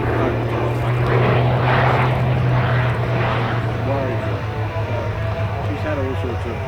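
A propeller aircraft side-slips up the runway on approach to land at an air show, its engine droning steadily and loudly with a strong low hum, while a commentator talks over it.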